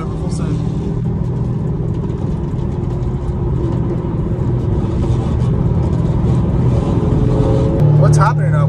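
Two Dodge Hellcat Redeyes cruising with four McLarens, a steady loud engine rumble and drone from close by, with a brief rise in the final second, under ongoing talk.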